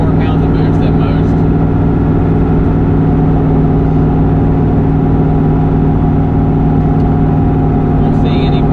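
A single turbo 2-valve car engine running on wastegate boost drones loud and close from inside the car on a straightaway, a steady, heavy rumble with strong low harmonics that barely changes pitch.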